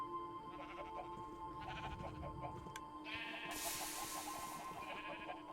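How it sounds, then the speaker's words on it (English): A goat in the video game Minecraft, played on the Stoneblock 4 modpack, lets out a string of faint, short bleats over a quiet, steady game background. "You have been observed, goat."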